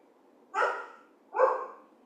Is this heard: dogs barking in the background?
yes